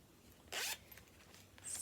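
A zipper on a small sewn mini pouch gives one quick, bright zip pull near the middle, with a second softer slide starting at the end in a quiet room.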